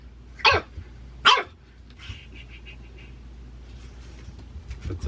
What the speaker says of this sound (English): That's him barking.